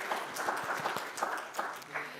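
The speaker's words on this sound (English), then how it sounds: "Let's give her a round of applause even though she's not here." A congregation at a Sunday service gives a round of applause, scattered and fairly faint clapping spread through the room for a couple of seconds, with some talk mixed in.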